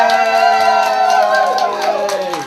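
Crowd at a street magic show claps and cheers, with loud sustained whoops and yells over scattered clapping.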